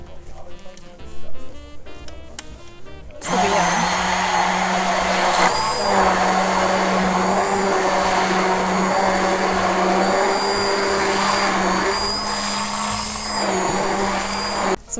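Blender pureeing egg yolks for eggnog-liqueur crème brûlée starts abruptly after a few seconds of quiet clatter, then runs as a loud, steady motor whir with a constant pitch for about eleven seconds.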